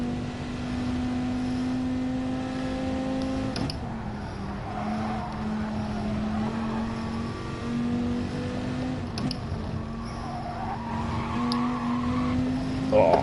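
A race car in the Gran Turismo video game holds a steady, droning engine note with brief pitch drops at gear shifts and faint tire squeal, loud and continuous throughout.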